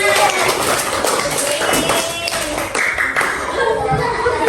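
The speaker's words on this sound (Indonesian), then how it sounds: "Bagus sekali, tepuk tangan." Elementary school pupils clap in a classroom during a civics lesson, a burst of clapping with some chuckling and voices mixed in, moderately loud and fading into talk.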